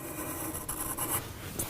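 Soft pastel stroked across paper, a short, close, dry scratchy rub that continues steadily with slight swells in loudness as the stroke moves.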